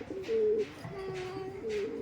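A female teddy pigeon, a high-flying breed, coos in low, rolling phrases, a long drawn-out coo followed by steadier repeated ones, close and clear over quiet background.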